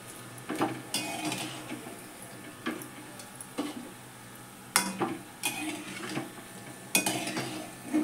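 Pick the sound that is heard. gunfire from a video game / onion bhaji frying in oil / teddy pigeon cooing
onion bhaji frying in oil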